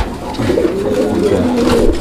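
Pigeons coo in low, soft, rolling calls close by at a pigeon seller's, steady over a light background hum.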